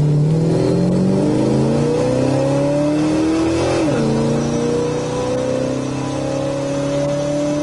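A 1969 Plymouth Road Runner V8 revs loud and close with no talking, its pitch climbing steadily through repeated throttle sweeps and easing off near the end.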